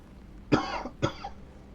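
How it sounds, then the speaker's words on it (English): Two sharp coughs in quick succession, close and fairly loud, with a short gap between them and no talking. "Apologies for the cough."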